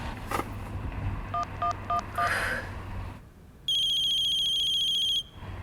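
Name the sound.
outgoing phone call ringing, unanswered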